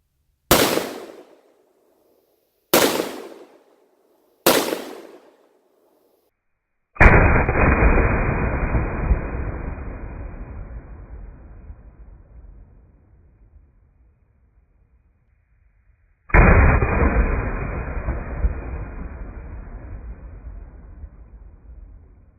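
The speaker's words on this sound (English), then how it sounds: "Let's go ahead and fire a couple more shots" A firearm fires over snow: three sharp, loud shots in quick succession, then two heavier blasts spaced far apart, each followed by a long decaying rumble that echoes through the open air.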